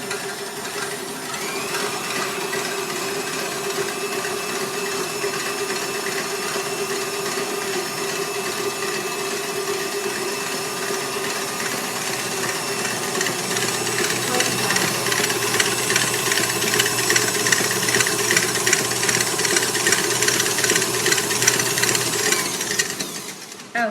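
An electric mixer whisking egg whites for French macarons, a steady close mechanical whir with rattling beaters in the bowl, growing slightly louder and busier in the second half before cutting off.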